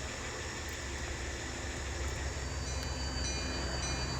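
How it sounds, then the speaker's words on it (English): An N scale model B&O locomotive runs steadily along a layout track with a constant, even electric motor hum and faint wheel noise, with no voices. "now we're going to park the B&O locomotive and power it down"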